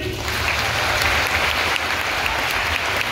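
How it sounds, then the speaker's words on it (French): Applause from a large audience at an Asterix theme park Gauls-versus-Romans match show, a dense, steady wash of clapping that fills the whole stretch at even loudness with no voices on top. "Avant le début des hostilités, tout le monde applaudit."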